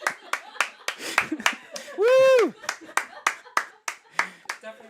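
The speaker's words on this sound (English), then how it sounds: "Loud applause in the coverage booth there" Scattered claps and brief bursts of applause from a small group in a tournament coverage booth, with a loud whooping cheer in the middle and voices mixed in.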